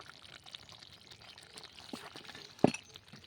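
Ghee is poured into a potol chingri curry of pointed gourd, prawns and potato just before it comes off the heat: a faint, soft pour with a brief clink near the end over quiet kitchen background.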